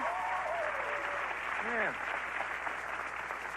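A studio audience on a late-night talk show applauds and cheers in a sustained roar, with a host's voice briefly calling out over it.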